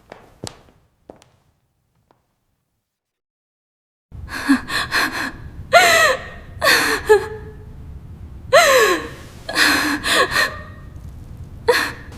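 A startled gasp bursts out after about four seconds of near silence, followed by a run of sharp breaths and gasps in a quiet room, close and fairly loud.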